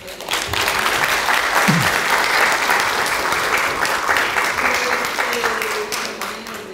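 An audience at a presidential candidates' invited lecture forum applauds a National Assembly member after his talk, loud sustained clapping filling the hall from start to finish, gradually easing slightly toward the end.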